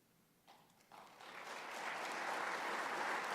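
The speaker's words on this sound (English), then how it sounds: "Yeah, we need to clap even if they're not here." Audience applause at a university winter convocation award recognition, starting as scattered claps and swelling into steady, building clapping from a large seated crowd in a hall.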